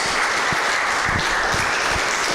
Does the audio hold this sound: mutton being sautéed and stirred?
no